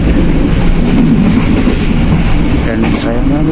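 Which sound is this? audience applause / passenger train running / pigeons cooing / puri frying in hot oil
passenger train running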